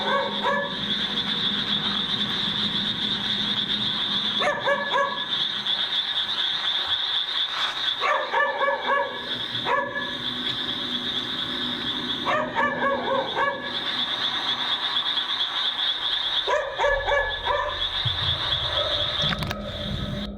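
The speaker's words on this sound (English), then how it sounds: "he decides to film as he searches for the barking dog" Dog barking in a graveyard, repeated bursts of barks at intervals over a steady high-pitched insect or frog-like drone, moderately distant, no talk.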